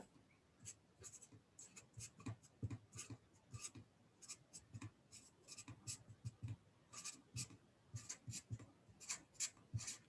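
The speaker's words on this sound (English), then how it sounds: "Let's write that down there." Hand-written notes during a physics lesson: quiet pen strokes scratch across paper in short, irregular bursts, close and faint, with no talk.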